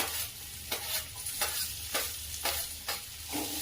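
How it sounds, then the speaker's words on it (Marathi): Chopped onion sautéing in a pan with asafoetida for a vada pav potato filling: steady close sizzle with rhythmic stirring strokes roughly every half second. "कांदा छान परतून घेऊया।"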